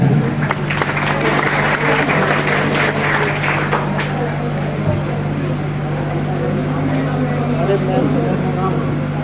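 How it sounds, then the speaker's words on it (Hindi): Audience applause at a felicitation ceremony for topper students, several seconds of clapping over a constant electrical hum, dying away into murmuring voices and background noise. "एक बार तालियां हो जाए।"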